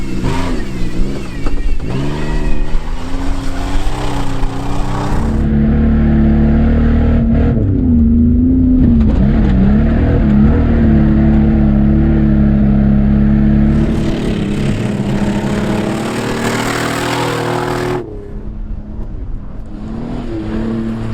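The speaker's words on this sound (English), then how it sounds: "Let's take a moment to listen to these cars as Nolan rips around the track in first place." Junkyard rally race cars with 3.8 engines revving hard around a muddy dirt track in a cornfield, engines roaring and rising in pitch close by, then easing and passing on, with no talk over them.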